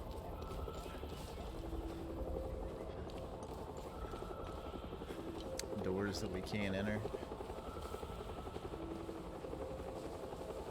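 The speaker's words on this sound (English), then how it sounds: "We got choppers roaming the area." Helicopters roam overhead in Hell is Us, a continuous rhythmic rotor chop that stays at a steady level throughout, with a person talking over it partway through.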